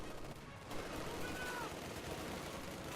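Machine gun fire in a strategy video game, a steady dense rattle of automatic bursts lasting throughout, with commentary talk over it.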